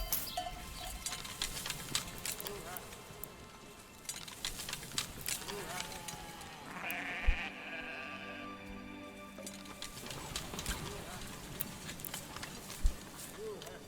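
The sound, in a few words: sheep bleating in video game Manor Lords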